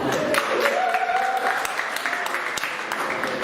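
An audience claps at a student union spring elections results night, a dense patter of hands that carries on steadily through the short stretch before tapering slightly, with some background murmur.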